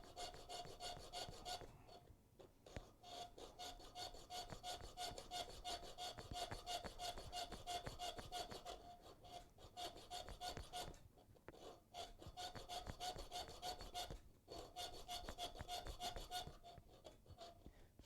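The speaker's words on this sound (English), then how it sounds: "Filing is not the easiest thing." A file rasps steadily across a steel blade during hand blade making, with repeated strokes and brief pauses that bind and drag as the work goes on, close and continuous.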